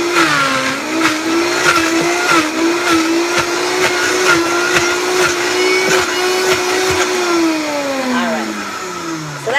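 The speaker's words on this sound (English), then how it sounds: "with it being the first time using the Vitamix that we need to use our little pulser" A Vitamix blender runs loud and steady in close, its motor whine holding a constant pitch, with short bursts that sound like pulsing, before it winds down near the end. Chimichurri ingredients are being chopped inside.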